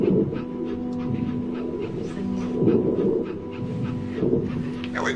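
A dog pants in the video game That Dragon, Cancer, with quick rhythmic breaths and soft whimpers close up over a low steady background hum.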